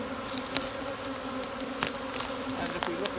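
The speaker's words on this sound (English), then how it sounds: "what we'll find is lots of bees coming in here" A swarm of bees flies into a hive box, a dense steady buzzing hum with occasional louder close passes of individual bees, no talking.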